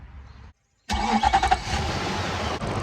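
A Nissan Titan engine cranks and fires after a brief silence, then settles into a loud, steady idle close by, with no talking.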